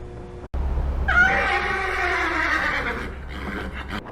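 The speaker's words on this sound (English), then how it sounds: "Fluffy, you stupid cat" Cat in the adventure game Nikki: The First Adventure letting out one long, drawn-out, wavering meow over a low hum, followed by faint clatter.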